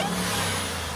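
A 2022 RAM TRX with a muffler delete and a large Cornerstone air intake gives off a steady, loud engine drone with a thin high whine on top, continuous for about a second.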